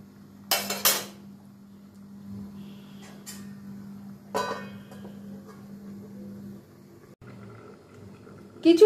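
Metal lid clanks onto a cooking pot of potatoes, prawns and pointed gourd, two quick clattering knocks near the start and another a few seconds later, over a steady low kitchen hum.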